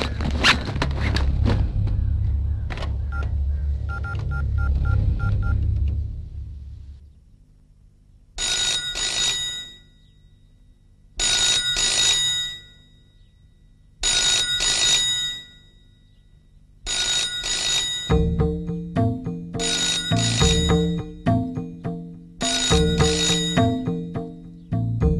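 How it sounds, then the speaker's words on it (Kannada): A mobile phone call goes out in a tense film scene, with a burst of dialing and keypad tones followed by a repeating electronic ring. The rings come in regular bursts with short pauses between them, clear and close, with no talking. "ಪೊಲೀಸ್ ಕರೆಯೋಣ ಅದಕ್ಕೆ ಮುಂಚೆ ಫೈರ್ ಸರ್ವಿಸ್ ಫೋನ್ ಮಾಡ"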